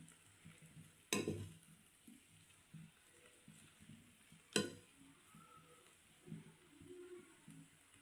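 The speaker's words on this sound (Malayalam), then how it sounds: "നമുക്ക് നമ്മൾ ചിക്കൻ ചില്ലി ചേർത്ത് കൊടുക്കാം. നന്നായിട്ട് മിക്സ് ചെയ്യാം കേട്ടോ." Chicken chilli with onion stirred and frying in a pan, a soft steady sizzle broken by two sharp scraping stirs, quiet and close.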